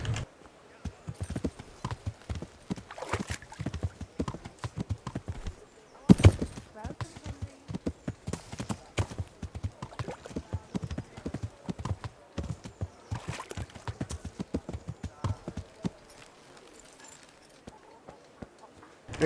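Steady clip-clop of horse hooves trotting along in the video game Kingdom Come: Deliverance, rhythmic and continuous, with a brief louder thud partway through and faint voices at times.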